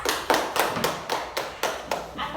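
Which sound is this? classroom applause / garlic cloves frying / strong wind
classroom applause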